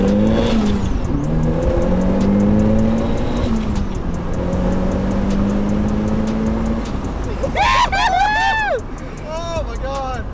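A 240 wheel-horsepower Mazda Miata pulls hard in first gear, the engine revving up twice in quick surges to a shrill peak before backing off. Excited voices break in near the end.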